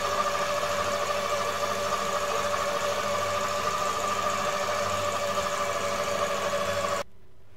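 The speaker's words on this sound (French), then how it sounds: "je pétris le tout 8 minutes en vitesse 1" Stand mixer kneading pizza dough at its lowest speed, a loud, steady motor whir with a faint rhythmic knock that runs unbroken for about seven seconds and then cuts off, with no voices.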